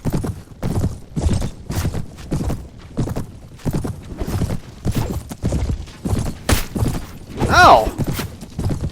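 Horse hooves pound in a fast gallop in the Mount & Blade: Warband video game, a steady thudding rhythm of clip-clops mixed with battle noise and a brief whinny near the end, with a voice talking over it.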